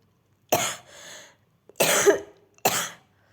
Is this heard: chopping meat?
no